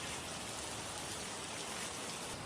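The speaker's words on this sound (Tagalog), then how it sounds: "walang tigil ang ulan sa loob ng ilang araw" Heavy rain pours down during typhoon flooding in a village in Taitung, a dense, continuous hiss of water falling and splashing on surfaces, steady and unbroken with no voices.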